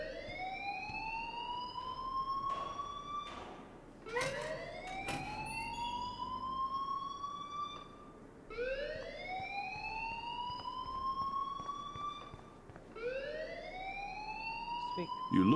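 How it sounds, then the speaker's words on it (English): A loud electronic alarm in the video game Life is Strange blares in repeated rising sweeps, each swelling upward and holding, cycling about every four seconds under faint background murmur. "please turn off that alarm since that's your job"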